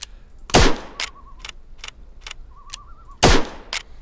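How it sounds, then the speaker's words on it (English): Two loud, sharp firearm shots from the video game Ylands, spaced about three seconds apart and aimed at a tree, each with a quick decaying tail, separated by softer clicks and brief whistling tones. "What if I can shoot the tree down? Not very rapid fire."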